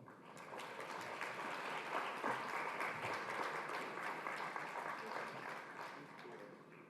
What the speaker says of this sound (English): We warmly applaud you.